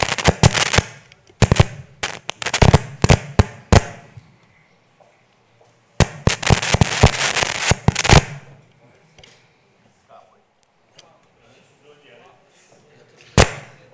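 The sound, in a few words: fireworks being set off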